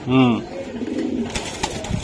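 Racing pigeons in a loft give a short, close coo at the start, followed by softer cooing and rustling under a low murmur of voices.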